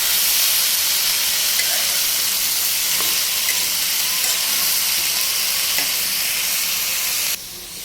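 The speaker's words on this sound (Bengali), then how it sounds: "এখন এটা দিয়ে সুন্দর করে লাড়া দেব" Banana blossom and shrimp fry in a hot pan while being stirred, producing a loud, continuous close-up sizzle and hiss that stays steady throughout, then eases slightly at the very end.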